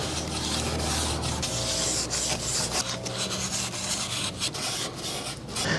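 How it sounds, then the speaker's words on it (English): Valve cover gasket groove on a 2005 Toyota Corolla being cleaned with brake cleaner: brisk, close rubbing and rasping scrubs repeat in short, uneven strokes, with occasional faint spray hiss. "I'm just gonna get all of this cleaned up with some brake cleaner right in this groove all the way around"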